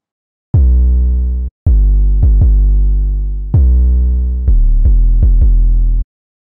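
Future bass synth chords from Serum with no sidechain pumping: sustained, bright stacked notes held at steady full loudness, re-struck in a choppy rhythm of long and short hits, loud and alone.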